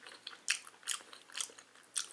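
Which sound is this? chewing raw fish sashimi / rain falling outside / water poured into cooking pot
chewing raw fish sashimi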